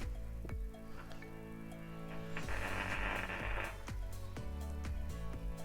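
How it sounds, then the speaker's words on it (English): A 30-year-old welding machine tack-welds a seat mount bolt, a faint buzzing crackle that swells for about a second in the middle, surrounded by low hum and occasional clicks, with no talking. "using my trusty 30-year-old welding machine, we're going to tack the bolt together"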